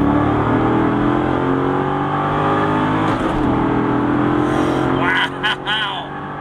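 A 400-horsepower V8 engine in a Corvette C6 coupe revs up with rising, sustained pitch, loud and close, ending with a brief shifting whine.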